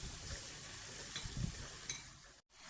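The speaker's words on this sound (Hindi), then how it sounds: "हाई फ्लेम पर भूनते हुए से मुझे तकरीबन 10 मिनट हो चुके हैं" Chicken frying with spices in a pan over a high flame, a steady close sizzle with a few stirring scrapes, then a brief drop to silence near the end.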